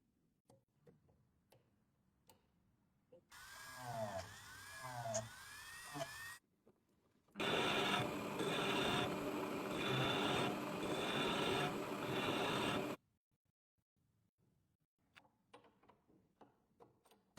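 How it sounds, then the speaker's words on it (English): Metal manual pencil sharpener mechanism being reassembled, giving two bursts of close mechanical ticking, clicking and gear-like rattling separated by short silences, with faint clicks before and after. "A quick reassembly of the mechanism before tackling the main cutter."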